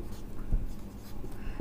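Pen or marker scratching across paper during a chemistry lesson, a steady soft scribbling texture with a slightly louder stroke near the middle, close and quiet with no talking.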